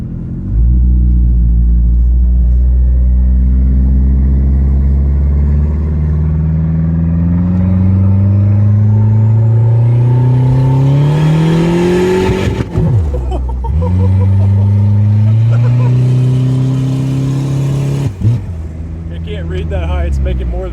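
A turbocharged Dodge Daytona accelerating hard on a test drive, engine revving up loudly and rising in pitch through the gears, dropping abruptly at shifts, recorded from inside the car with people talking over it.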